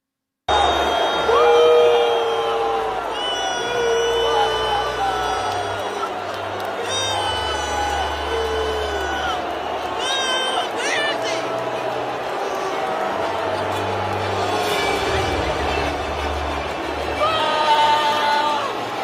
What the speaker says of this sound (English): That's a lot of boos